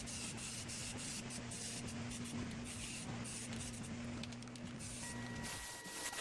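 Aerosol primer hisses steadily from a spray can in a garage with the door open, in even overlapping strokes. The spray is continuous and close for about five seconds, then cuts off, leaving a faint tone in the room.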